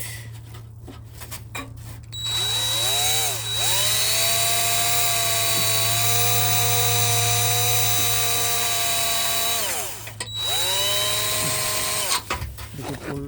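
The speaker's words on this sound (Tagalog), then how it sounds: "So we're gonna drill here a little bit." A power drill whines loudly and steadily, boring holes beneath a 2005 Toyota Verso near the metal gas tank, running in two long sustained bursts with a short pause between, close and dominant with no talk over it.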